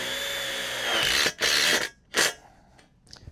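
A power drill drives screws into the frame joint of a caterpillar tunnel, one long loud whirring run, then two short bursts as the screw seats, followed by faint clicks, close by with no talking.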